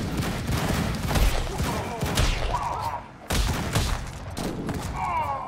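Minigun fire in the video game Madness: Project Nexus, heavy, loud, continuous bursts that break off briefly near the middle before resuming.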